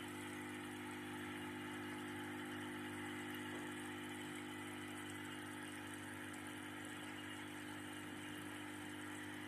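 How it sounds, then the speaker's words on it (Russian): Aquarium filter running in a 33-litre freshwater tank, a faint, steady mechanical hum and whir with no change in level and no voices. "Фильтр работает."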